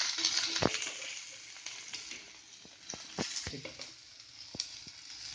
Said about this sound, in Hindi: और ये सबको सॉफ्ट होने तक थोड़ा फ्राई करेंगे